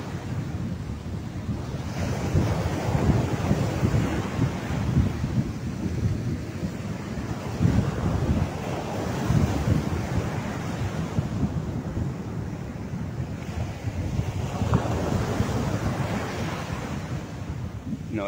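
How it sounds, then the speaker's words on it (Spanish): Ocean surf rolls and crashes continuously onto a beach in Mexico, with steady wind buffeting the microphone throughout. "para que escuchen las olas."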